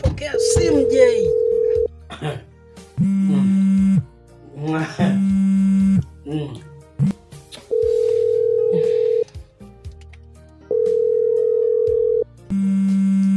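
Telephone ringing in repeated steady electronic tones, each lasting about a second or two with gaps between them, loud and close, while people talk in between the rings.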